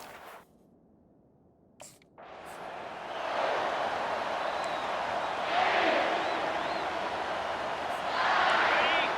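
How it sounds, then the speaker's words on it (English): A stadium crowd in EA Sports College Football roars in a loud, sustained swell after a quiet start, with whistle-like swells rising above it while a commentator talks. "This crowd bringing an ear-splitting welcome to their visitors."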